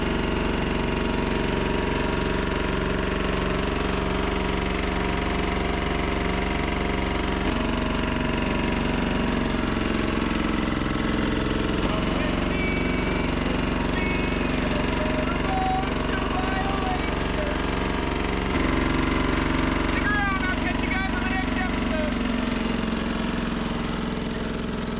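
A diesel trench compactor engine runs steadily and loudly with a constant low droning rumble and rattling knock throughout, with faint voices now and then.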